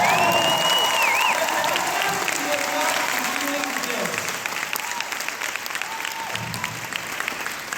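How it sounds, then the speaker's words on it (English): A live comedy-show audience gives loud, sustained applause for military veterans, the crowd clapping and cheering together while a voice carries over the top before the noise slowly tapers. "would you please give them a loud round of applause?"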